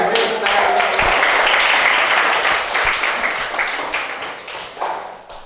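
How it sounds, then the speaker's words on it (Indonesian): Classroom students clapping for a classmate, a loud close burst of applause that swells quickly, then thins and fades with a few last scattered claps. "Beri tepuk tangan."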